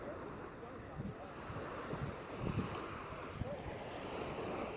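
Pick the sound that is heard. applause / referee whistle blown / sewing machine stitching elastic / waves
waves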